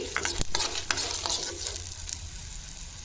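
Dal and dried red chillies dry-roast for vaamu leaf chutney, stirred in a pan with scraping strokes and a light crackling sizzle, loud at first then settling to a quieter hiss.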